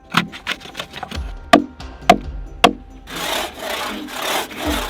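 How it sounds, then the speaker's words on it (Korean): Wood is sawn and cut by hand in sharp rasping strokes, with several quick scrapes and knocks first, then a longer run of steady back-and-forth sawing, close and clear with no talking. "이 목재를 절단하고 가공하고 또 옮기는 과정 하나하나가 엄청난 소음을 만들 수 있고"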